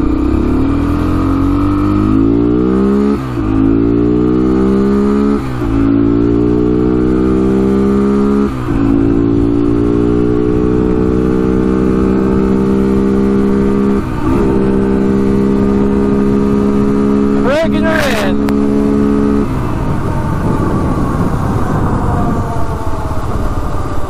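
A Honda 300EX ATV engine revs up through repeated gear shifts while ridden along a road, its loud, steady drone rising in pitch, dipping briefly at each shift and climbing again, before ending in rough, windy noise.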